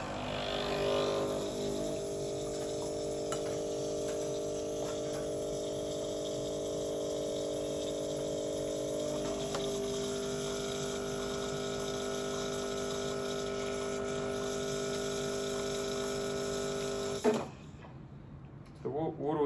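A cranberry red Breville Barista Express BES870CRN espresso machine pumps water through, giving a steady loud mechanical hum with running water that continues for about seventeen seconds, then cuts off into quiet handling noises.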